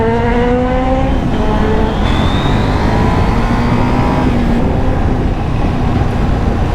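A KTM 790 Duke motorcycle accelerates hard while popping power wheelies, its engine loud and close with a steady, rising drone and no talk over it.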